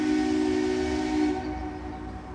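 A model steam locomotive of the P&B Pacific #1086 arrives at a station, its whistle sounding as a steady, loud, close tone over rolling rail rumble before the tone cuts out and the train noise continues alone.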